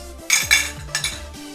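A spoon clinks against a glass while stirring a Ramadan iftar drink of Rooh Afza and tukmaria seeds, giving several sharp, close metallic taps in an uneven rhythm with quiet gaps between.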